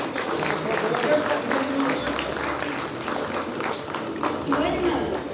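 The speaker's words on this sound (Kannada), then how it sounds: "ಚಪ್ಪಾಳೆ ಬರಲಿ." Applause from an audience at a ceremony where the Karnataka Chief Minister unveils a portrait of Basavanna, a dense steady clapping texture running throughout, with voices mixed in.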